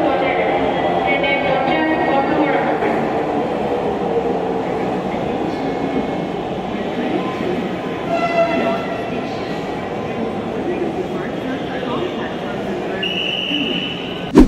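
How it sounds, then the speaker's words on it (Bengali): A Dhaka metro rail train pulls into Agargaon station with a steady, loud rumble of wheels and carriages throughout, a brief tonal squeal near the end, and people talking faintly in the background. "এই যে বন্ধুরা আর একটা ট্রেন আসলো"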